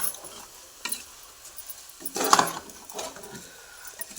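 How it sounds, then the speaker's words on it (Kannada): Rice frying in oil in a pan, a soft sizzle with a few scraping stirs and one louder clatter of the spoon partway through, close by and fairly quiet. "ಹಿಂಗೆ ಫ್ರೈ ಮಾಡ್ತಾ ಅಕ್ಕಿ ಸ್ವಲ್ಪ ತಳ ಹಿಡಿಯೋಕ್ಕೆ ಬರುತ್ತಲ್ಲ, ಅಲ್ಲಿ ತನಕ ನೀವು ಫ್ರೈ ಮಾಡಿಕೊಂಡ್ರೆ ಸೊ ಎಣ್ಣೆನಲ್ಲಿ ಸ್ವಲ್ಪ ಫ್ರೈ ಆದರೆ ಟೇಸ್ಟು ಚೆನ್ನಾಗಿರುತ್ತೆ"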